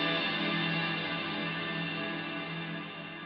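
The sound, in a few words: guitar with cranked spring reverb on Harley Benton DNAfx GiT Pro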